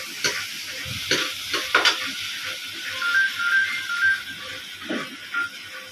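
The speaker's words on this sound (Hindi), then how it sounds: "हमारा खींचा गर्म हो गया तो इसके अंदर हम लोग ऐड कर देते हैं प्याज" Onions drop into a hot wok in a village kitchen and sizzle with a steady frying hiss, broken by a few close clatters of stirring. No one speaks.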